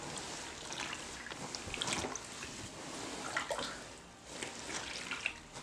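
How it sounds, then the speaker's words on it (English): Water sloshing and trickling in a makeshift tub as a thrifted dress is dipped into hot water, with soft irregular splashes and dribbles at close range and no talking. "now time to dip the dress in before we dye it"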